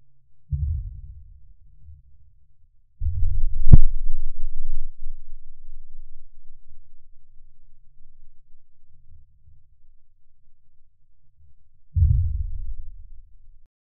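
Deep, low rumbling bursts of volcanic harmonic tremor from magma injection beneath Yellowstone rise and fade in three separate swells, with a sharp click and faint low drones in between.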